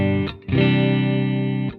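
A Squier Classic Vibe 60s Jazzmaster electric guitar plays sustained clean chords through a Fender clean amp model on a Spark amp, a short chord then a longer ringing one, bright and up close.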